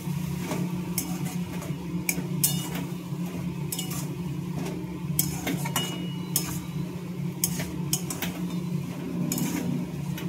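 A utensil stirs boiled banana flower with spices in a pan, producing repeated scraping and light metallic clinks at an irregular pace, close and fairly loud over a steady low hum.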